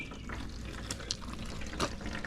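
Water runs steadily from a hose or tap, filling a large container to find where it leaks, a soft continuous splash with a few brighter gurgles and no talking.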